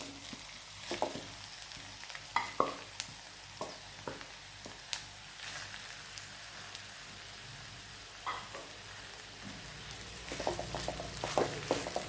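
Half-mashed potatoes are stirred into a frying potato masala for poori, a faint low sizzle broken by scattered scraping and clinking of a utensil, quiet and without speech.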